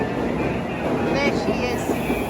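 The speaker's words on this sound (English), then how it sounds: "Okay, one leaving and here comes our train." A train pulls into a station in Japan with a steady, loud rumble and rolling hiss of carriages close by, and voices are heard over the noise.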